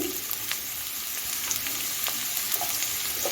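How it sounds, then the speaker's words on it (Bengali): Chopped onion added to hot oil after garlic for a brinjal bharta, a continuous close frying sizzle with light crackles and a few faint stirring clicks, no talk. "রসুনটা আমি ভেজে নিয়েছি এখন আমি পেঁয়াজ কুচিটা দিয়ে দিচ্ছি"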